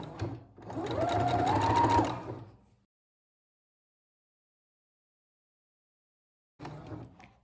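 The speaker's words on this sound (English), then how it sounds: "if you've been sewing your bias binding, eventually you will come to your first flag" A sewing machine stitches bias binding onto Easter bunting in a close, loud burst of rapid whirring lasting about two seconds, rising slightly in pitch, then falls silent before briefly starting up again.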